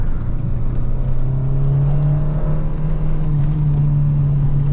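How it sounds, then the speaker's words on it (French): A Peugeot 309 GTI 16 accelerates, its engine drone loud and steady from inside the car, with a strong low hum that holds throughout and no voices. "Allez, hop, on accélère."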